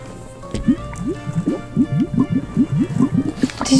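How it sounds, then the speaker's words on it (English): A bubble wand blows soap bubbles with a string of soft wet pops and squelchy blips repeating in quick irregular succession, close and fairly quiet. "Let's blow some bubbles."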